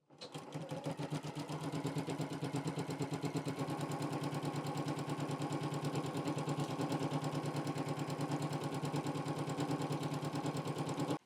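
A sewing machine stitches straight lines across a quilt block. It hums in a fast, even mechanical rhythm that holds steady for about eleven seconds, close and clear, with no speech.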